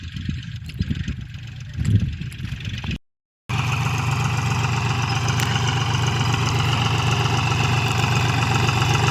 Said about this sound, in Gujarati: ટ્રેક્ટર જો હાલે છે।